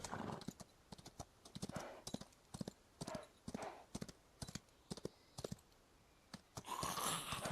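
A horse gallops in the video game Chrono Odyssey, with rapid rhythmic hoofbeats in evenly spaced bursts, fairly close, and a brighter noisy swell at the end.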